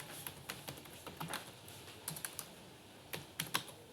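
Quiet computer keyboard typing while ABAP code is written, with irregular bursts of light key taps and brief pauses between them, close and alone.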